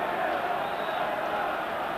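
Steady, dense roar of a capacity football crowd of nearly 14,000 at Somerset Park for an Ayr United v Rangers Scottish Cup tie, a continuous broadband wash of massed voices with no distinct individual calls.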